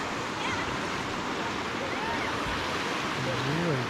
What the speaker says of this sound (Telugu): సో ఇక్కడ వాటర్ ఫాల్ కూడా ఉంది.